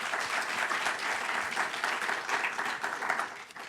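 A crowd applauding at a panel discussion and artist talk, with steady, dense clapping at moderate distance that runs throughout and fades slightly at the end.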